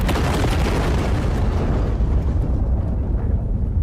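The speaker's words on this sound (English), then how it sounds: "from the beginning frames, this explosion is beyond stunning" A massive explosion in a Demon Slayer anime scene erupts as a loud, sustained rumbling roar with crackling bursts that gradually tail off, heard alone.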